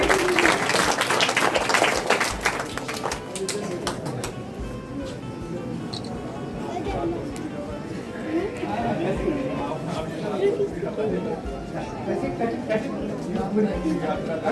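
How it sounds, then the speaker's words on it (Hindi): A school audience at a government senior secondary school's Independence Day program applauds Vandana madam. Loud, dense clapping fills the first four seconds, then fades into crowd chatter and nearby voices. "जोरदार तालियां वंदना मैडम के लिए"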